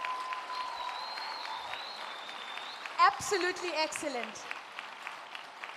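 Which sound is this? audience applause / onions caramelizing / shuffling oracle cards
audience applause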